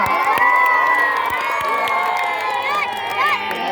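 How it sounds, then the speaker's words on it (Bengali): A crowd at a village football league final cheers and shouts in a continuous loud wash, children's high whoops rising above, with a few sharp claps and whistles, and a voice calling out over the noise. "করতালি একটা করতালি একটা"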